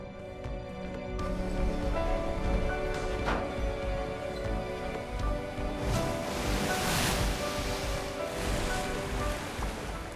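Rough sea surges and crashes against a boat, a continuous loud wash of surf with swelling bursts of spray and wind noise.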